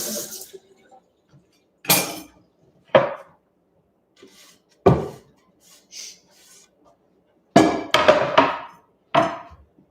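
A knife chopping a large onion on a cutting board, a few loud, well-spaced thuds with quiet gaps between them and a quick cluster of cuts near the end.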